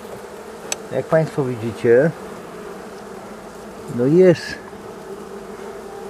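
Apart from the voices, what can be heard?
honeybees buzzing at the hive during morning inspection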